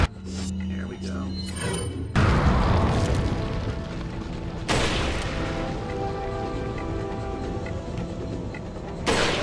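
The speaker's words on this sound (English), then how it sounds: "Here might be a good instance of using one of those grenades." A grenade blast in Resident Evil 4 HD on PC, a loud broadband boom that hits at once and rings out over several seconds, with a second burst following, while a person talks over the game sounds.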